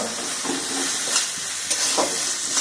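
Prawns and spices sautéed in a pan for a spicy curry with taro stolons, giving a steady close sizzle with a few brief scraping stirs and no voices.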